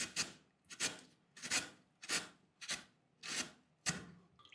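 Potatoes are grated by hand, each one pulled in a single direction across the grater to make long shreds. Seven evenly spaced rasping strokes sound close and crisp, with no talking.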